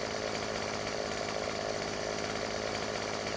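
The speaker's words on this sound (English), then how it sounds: "let me go get out the old McCullough chainsaw" A McCulloch chainsaw in Farming Simulator 15 runs steadily at a constant drone while felling a tree, a continuous buzzing motor sound with no pauses or speech.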